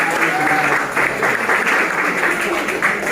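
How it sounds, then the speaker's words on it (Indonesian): An audience of high school students at an election commission democracy seminar claps steadily in a dense, loud wash that continues unbroken, with a faint voice underneath. "Tepuk tangan untuk"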